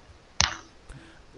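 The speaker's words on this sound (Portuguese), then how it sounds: "Ainda tô com aquela tosse do capeta lá" A single sharp cough bursts out close to the mic, followed a moment later by a second abrupt cough, with near silence around them.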